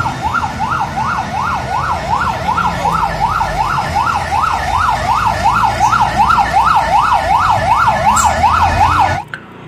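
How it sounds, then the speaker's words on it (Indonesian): Toy fire truck siren, a continuous rapid wailing sweep repeating steadily for about nine seconds, loud and close, then cutting off abruptly. "Ini ada mobil truk pemadam kebakaran."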